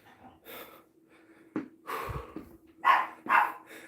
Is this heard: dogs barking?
yes